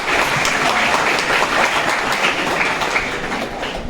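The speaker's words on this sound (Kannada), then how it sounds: "ಮತ್ತೊಮ್ಮೆ ಜೋರಾಗಿ ಚಪ್ಪಾಳೆ ತಟ್ಟೋಣ" Loud, steady audience applause at a college freshers' day event, a dense continuous patter of many hands clapping throughout, with no talking over it.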